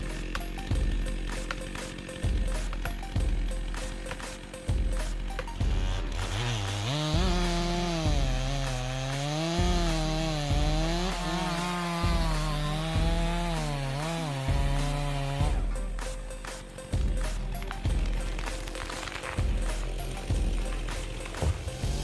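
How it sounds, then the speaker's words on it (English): Chainsaws cut through wood during logging in snowy conditions, a rhythmic series of loud rasping strokes punctuated by a sustained rising and falling engine whine in the middle, close and continuous. "The portability of chainsaws makes them able to operate anytime, anywhere, creating favorable conditions for logging during such snowy times."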